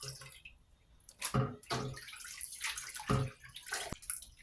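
Chitterlings are washed by hand in a basin of water, with splashing, sloshing and dripping in short bursts, close and fairly quiet.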